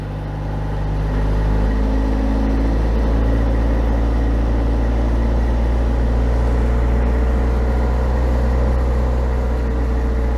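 A Perkins 4.108 diesel boat engine running in reverse at about 1800 RPM gives a loud, steady low drone that swells slightly in the first second and then holds constant, with no voices.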